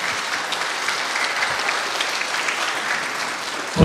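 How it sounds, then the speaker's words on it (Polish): Dense, steady applause from a crowd in a hall following a polonaise dance at a Polish high school prom, continuous and fairly loud throughout with a brief thump at the end. "Poproszę również o duże brawa dla pani profesor Jolanty Gruzińskiej za przygotowanie poloneza."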